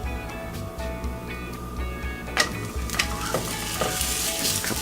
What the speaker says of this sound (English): So our pan is nice and hot, just put some oil on it.